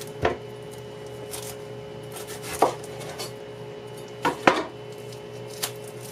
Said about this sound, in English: So I'm going to cut up my carrots